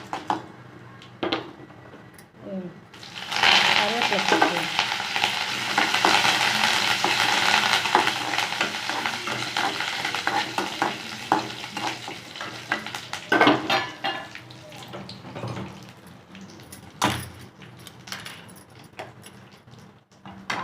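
Urad dal, dried red chillies and curry leaves crackle and sizzle in hot oil in a pan for a South Indian keerai kadayal, loud at first and then fading to sparse pops, with a spoon stirring and scraping against the metal.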